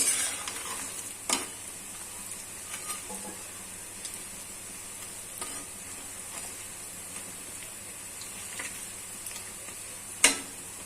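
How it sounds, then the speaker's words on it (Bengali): Pitha cakes fry in hot oil, a steady soft sizzle running underneath with occasional clicks and knocks from stirring and turning, heard alone without talk. "এবারে এগুলো খুব ভালো করে একটু নেড়ে নেড়ে ভেজে নেব"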